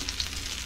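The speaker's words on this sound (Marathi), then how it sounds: "आता हे असे मी हे परतून घेते" White anchovy fish fry Malvani-style in a pan with a soft, steady sizzle and faint frying crackle, close up and brief, with no talking over it.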